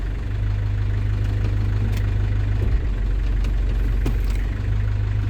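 A London Taxi's engine idling with a deep steady low drone, small bumps and ticks as its automatic gearbox is cycled through the gears.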